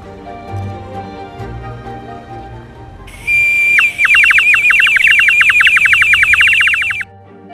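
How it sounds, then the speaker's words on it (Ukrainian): A clay water bird whistle filled with water gives a bright, warbling trill in a long burst, bubbling chirps repeating fast and loud over a quiet background. "Коли налити сюди води, воно відображає звуки пташки."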